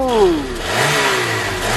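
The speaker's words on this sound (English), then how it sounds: "Thing's popping, bro. That's not normal, bro. Why do all Peugeots do this?" A Peugeot engine revs loudly near the exhaust, its pitch falling away as the throttle drops, then a rougher running note with crackly exhaust texture continues close by.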